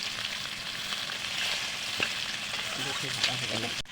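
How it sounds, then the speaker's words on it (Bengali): Eggs seasoned with turmeric and salt sizzle in a pan after being turned to cook the other side, a continuous near crackle with a few spatula taps and a brief clatter just before the end. "ডিমের এক পাশ ভাজা হয়ে গেছে"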